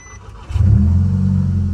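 A Volkswagen Jetta GLI, lowered on 20-inch wheels, fires up after a faint electronic chime, its engine catching with a loud surge and revving before settling into a steady, close, rumbling idle.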